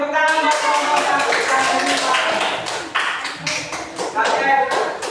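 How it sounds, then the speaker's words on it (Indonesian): Classroom applause for a student group after their presentation, a burst of claps mixed with loud chatter and voices throughout, fairly close and busy. "tepuk tangan buat kelompok satu."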